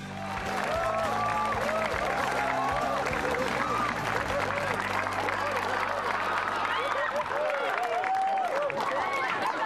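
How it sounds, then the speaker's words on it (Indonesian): Loud, sustained audience applause at a televised Christmas stand-up comedy show on Metro TV, a dense wash of clapping that runs through the whole stretch, mixed with crowd noise and some tonal background sound. "saya belum bikin apa-apa udah tepuk tangan ya"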